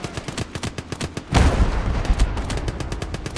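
Rapid bursts of gunfire rattle against an artillery piece in the Call to Arms Gate of Hell game, with dense rhythmic shots under a heavy rumbling impact midway, loud and close with no talk.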